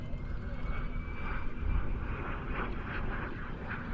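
An Aero L-39 jet powered by an Ivchenko AI-35 engine flies during a 2025 airshow practice at Leszno, giving a steady, fairly faint, distant engine roar with a thin whining tone.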